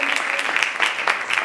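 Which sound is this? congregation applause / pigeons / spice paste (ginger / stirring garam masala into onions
congregation applause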